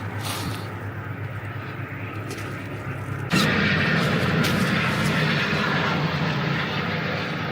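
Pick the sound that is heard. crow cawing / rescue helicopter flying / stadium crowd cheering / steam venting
rescue helicopter flying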